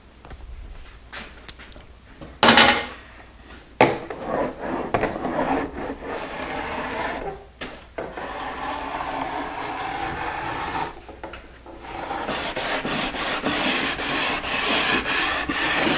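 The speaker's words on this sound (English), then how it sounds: "and then I'm going to trim off the excess." Iron-on edge banding being trimmed flush along plywood cabinet panels for a Murphy bed frame, a close, continuous rasping and scraping with short bursts and pauses, loud and alone.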